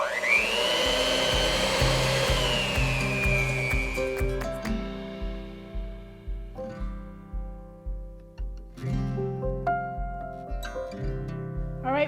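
An electric hand mixer whirs steadily as it beats oil and four eggs into lemon sheet cake batter, a loud motor hum with a rising whine at first, then rhythmic pulsing as the beaters churn the bowl.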